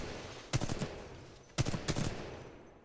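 Two bursts of rapid gunfire from a weapon in Titanfall 2, each a quick volley of several sharp shots about a second apart, loud and close with no talking.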